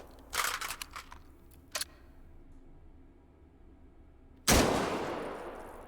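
An explosive shotgun shell fires in the H3VR virtual-reality game: a cluster of sharp cracks early on, one lone pop after that, a quiet stretch, and then a single loud, broad blast that trails off slowly.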